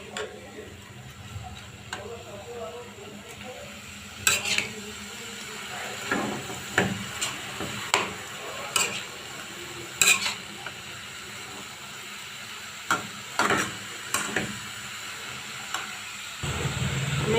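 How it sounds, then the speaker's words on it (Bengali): A spatula scrapes and taps in a pan while a vegetable fry of flat beans, potato, carrot and tomato is stirred with turmeric and salt, giving irregular clicks and knocks over a faint sizzle, with quiet speech at times. "আমি হলুদ আর লবণটা মিক্স করে নিচ্ছি"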